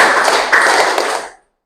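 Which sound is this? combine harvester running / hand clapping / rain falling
hand clapping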